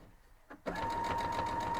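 After a quiet moment, a sewing machine starts up and runs steadily, stitching a close hem on a cloth napkin with a fast, even, whirring hum.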